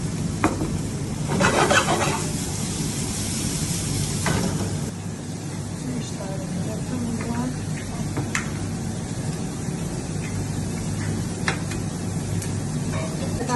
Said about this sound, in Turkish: tavamıza biraz yağımızı alıyoruz. Evet. Sebzelerimizi ilave ediyoruz.